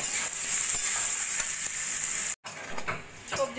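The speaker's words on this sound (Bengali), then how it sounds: "ভালো করে মশলাগুলো আরো কিছুক্ষণ ভাজা ভাজা করে নেব।" Vegetables frying with salt, turmeric and coriander powder for a mixed dal, a steady close hiss of sizzling broken by a brief drop-out, then stirring scrapes over the continuing frying.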